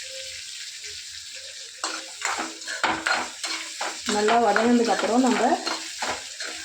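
Onions sauté in a hot pan, first a quiet sizzle and then loud, close scraping and stirring strokes over crackling frying, with a brief spoken word near the start.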